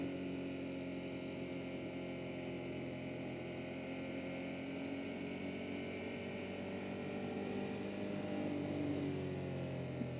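A Ducati Monster 1200S is ridden in second gear through corners, its engine a steady, muffled, moderately quiet hum with gently shifting pitch that rises slightly toward the end, no talking.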